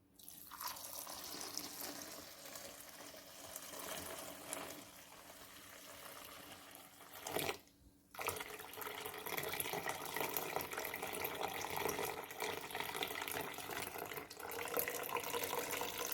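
Excess water is poured off a pot of chicken being cooked for Jamaican-style brown stew chicken, running as a steady splashing flow for about seven seconds, breaking off briefly, then pouring again, close by and with no talk.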